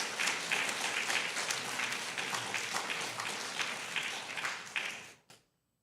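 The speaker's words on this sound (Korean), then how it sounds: "저희가 큰 박수로 환영하도록 하겠습니다" Church congregation applauding to welcome a visiting pastor during a Sunday worship service, a dense wash of clapping held steady for about five seconds before it quickly fades out to silence.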